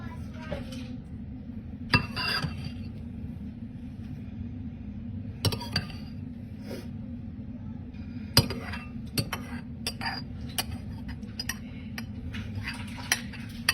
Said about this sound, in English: You can probably hear my son in the background playing with his Legos.